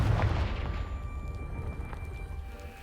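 A Confringo fire spell explodes against a pile of blocking debris in Hogwarts Legacy, one deep boom with a low rumble that slowly decays over a few seconds.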